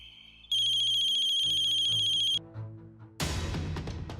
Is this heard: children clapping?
no